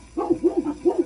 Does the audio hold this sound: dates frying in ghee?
no